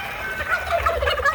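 Turkeys gobble in a farmyard, a quick warbling rattle of calls rising and overlapping at moderate distance, loud and alone without any talk.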